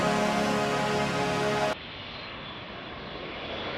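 A Japan Airlines heavy airliner on approach to San Diego gives a steady engine drone with tonal whine, which drops abruptly into a duller, muffled rumble partway through.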